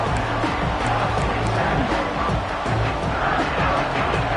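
Football stadium crowd at a college game, a dense continuous roar of many voices filling the space, steady and loud throughout with no distinct words standing out.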